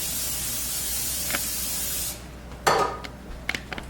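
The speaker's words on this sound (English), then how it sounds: "So I'm just going to spray this." Cooking spray hisses onto a deep round baking dish for about two seconds, close and loud, followed by a few light clicks and handling sounds.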